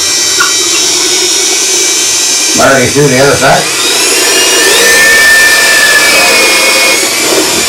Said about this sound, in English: We got a cordless drill, so you're safe.